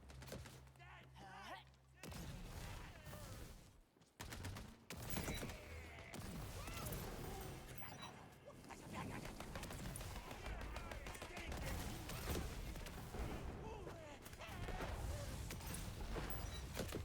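Gunfire in Tiny Tina's Wonderlands, rapid loud bursts and volleys after a brief quieter start, with a short drop near four seconds, then sustained shooting and clanking mixed with speech.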